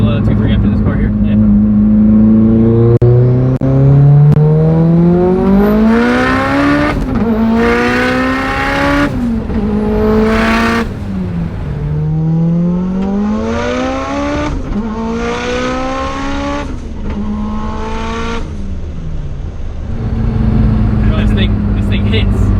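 An 850 HP Mitsubishi Evo 8 accelerates hard on a freeway, its loud, close engine climbing in pitch through several gear changes with brief dips between pulls, while people talk over the roar.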